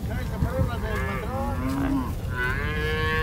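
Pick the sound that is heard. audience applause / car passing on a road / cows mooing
cows mooing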